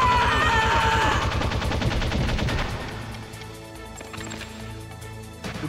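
Rapid gunfire bursts from the Metal Gear Solid video game, PC version, crackle loudly over layered game music, then ease to a quieter stretch with scattered shots.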